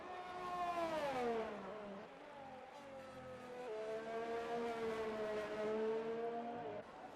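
A McLaren Formula 1 car in F1 2020 at the Japanese Grand Prix, its engine whining and shifting pitch as it revs up and down across a lap, loud and steady with no talk.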